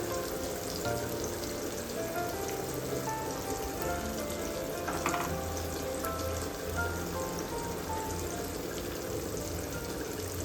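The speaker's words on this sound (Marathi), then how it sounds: "मी या सगळ्या अशा कोळंब्या हे एकाच ठेवून घेते पॅनमध्ये, कारण हे आता अकसतील ना" Prawns fry in hot oil in a pan, giving a dense, steady crackling sizzle with light bubbling that holds throughout, close and fairly loud, without speech.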